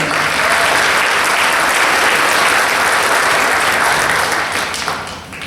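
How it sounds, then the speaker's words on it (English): A holiday concert audience applauds itself after a Craven Community Concert Band sing-along, with thick, loud clapping from many hands that holds steady and then tapers off at the very end. "Give yourselves a round of applause."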